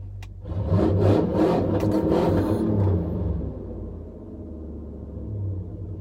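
A dirty silver car nearby rumbles with a low, steady engine tone that swells briefly as it revs, then settles back to a quieter idle, with no talking over it.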